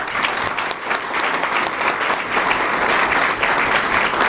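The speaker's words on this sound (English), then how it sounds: "Give yourself a round of applause." Sustained applause from a Schenectady Rotary Club audience, a dense, steady patter of many hands clapping at even loudness throughout.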